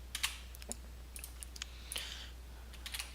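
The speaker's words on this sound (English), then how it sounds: "you want to type in this command" Someone types a command on a computer keyboard: scattered, irregular keystroke clicks, fairly faint, over a low steady hum.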